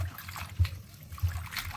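Water trickling and sloshing as spinach soaks and is rinsed in a bowl for Andhra-style spinach dal, a soft, steady close dribble with a few low splashy bumps.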